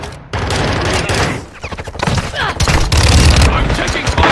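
Rapid bursts of gunfire in a pistols-only shooter video game match, loud and dense with overlapping shots and heavy booming thumps, voices talking underneath.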